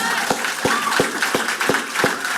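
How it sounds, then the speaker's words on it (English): Sparse, evenly spaced claps ring out about every third of a second over a busy background of crowd noise, like a small audience clapping along at a charity gala. "Give yourselves a round of applause."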